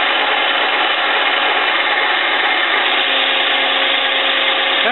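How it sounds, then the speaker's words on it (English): Metal lathe taking a deep cut, a loud continuous grinding whir with steady tone and no pauses, the machine heard alone at close range. "That's probably the deepest cut I'd normally take with this lathe"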